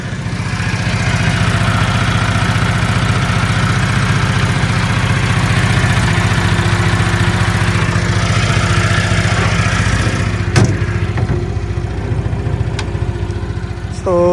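A Denyo engine welder idles at its 50 Hz setting with its covers closed, a steady, fairly loud mechanical drone with a low hum that runs evenly throughout, with a brief knock near the end.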